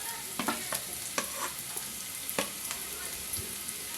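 Finely chopped green chillies frying and being stirred in a pan, with a steady soft sizzle and several sharp scraping clicks of a spatula against the metal, close and without talk.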